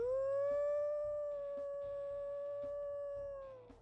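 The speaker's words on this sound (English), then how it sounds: "let's go ahead and listen to her howls as well" A female wolf in a video game lets out one long, steady howl that holds its pitch and fades near the end. It sits over a quiet, low, rhythmic background.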